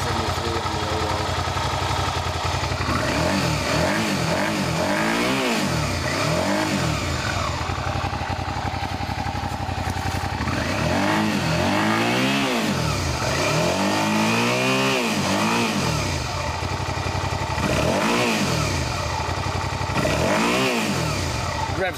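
A 2002 Suzuki SV650 motorcycle engine revs up and down in several bursts, rising and falling in pitch over a steady idle, loud and close.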